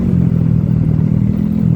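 A motorcycle engine on a quiet night road near Puncak 2 Sukamakmur, Indonesia, gives a loud, close, steady low drone with a constant throb. It holds for under two seconds without clearly rising or fading.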